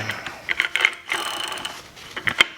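A damaged electric bike wheel bearing grinds and clicks with scattered ratcheting, gritty bursts, moderately close, with brief pauses between the rough spins.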